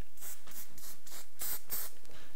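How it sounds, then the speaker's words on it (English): Hairspray misted onto a short-hair bun in repeated quick hissing bursts, about six short pumps in a steady rhythm, close and fairly loud. "Adding a little bit of hairspray."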